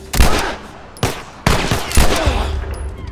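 Gunfire in the video game The Last of Us: several sharp, loud shots in quick succession, each with a short echoing tail, close and punchy.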